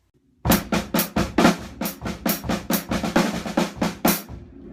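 Rapid, loud drum set flam pattern close up, with hi-hat and snare strokes in a steady driving stream of doubled hits, stopping abruptly at the end.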